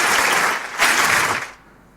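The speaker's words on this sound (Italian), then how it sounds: "l'applauso forte. Fortissimo," Loud applause for Sonny from a studio audience on Enzo Termini's Bella RadioTv show, two strong bursts of clapping that surge, then fade out abruptly near the end.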